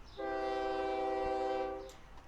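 A train horn in the OpenTTD video game sounds one sustained chord-like blast of about two seconds, loud and alone over a low rumbling background.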